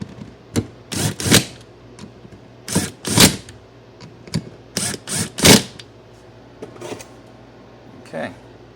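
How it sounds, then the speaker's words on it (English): Wrench tightening 13mm bolts on a motorcycle starter clutch assembly, a series of close, sharp ratcheting clicks and metallic clatters in irregular bursts, with quiet speech in between. "I'm just going to tack them down with the wrench. It's a 13mm bolt."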